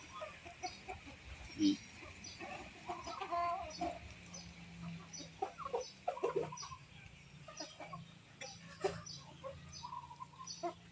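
Chickens cluck in soft, scattered bursts while being fed, with faint bird calls around them, a quiet outdoor farmyard scene with occasional louder squawks.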